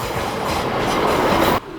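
A train rolls loud and close over a railway level crossing, a dense continuous rumble with wheel clatter that cuts off abruptly near the end.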